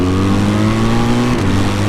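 BMW R12 2024 neo-retro motorcycle engine, running without its catalytic converter, revving steadily and loudly up close, its deep rumbling tone holding then dipping briefly partway through.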